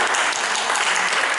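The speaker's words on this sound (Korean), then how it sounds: "박수 한번 해주세요." Brief burst of congregational applause during a Korean church Sunday service, a dense wash of clapping lasting about a second and a half.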